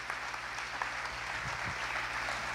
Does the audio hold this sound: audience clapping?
yes